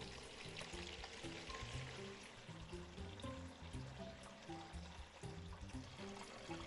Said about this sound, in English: A kitchen sink tap is running, filling up a basin with water.